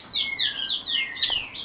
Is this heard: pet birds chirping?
yes